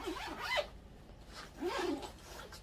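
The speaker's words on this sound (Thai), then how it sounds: "รูดซิปเลย" A zipper pulled shut on a fabric backpack with an iPad inside, two rasping strokes, close and fairly quiet, with no talking.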